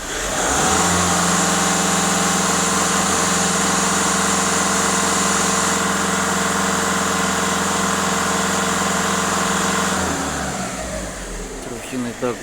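VW Caddy 1.6 TDI diesel engine in poor condition, held at a steady raised idle for about ten seconds before the revs drop back, with a loud, close, continuous hum and a voice briefly heard.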